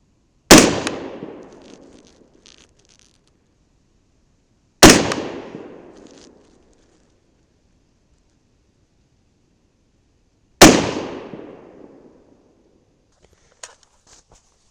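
Three loud, sharp rifle shots crack out several seconds apart while a Vortex scope is being sighted in, each ringing off in a fading outdoor echo. A faint small knock follows near the end.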